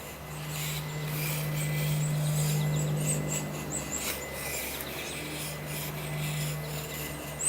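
A Thomas Hacker forged knife shaves fine curls from a piece of wood in a steady, close scraping rasp, with a low hum running underneath.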